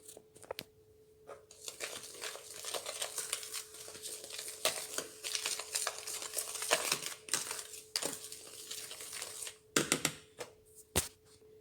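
Dry rava cake ingredients, including finely ground powder, being stirred together in a bowl, with steady scraping and crinkly rustling broken by sharp clinks of the utensil against the bowl, fairly close and moderately loud.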